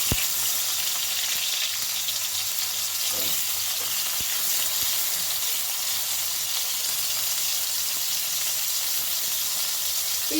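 Brinjal pieces coated in salt and turmeric frying in hot mustard oil, a loud, continuous sizzle that stays steady throughout with occasional faint utensil knocks.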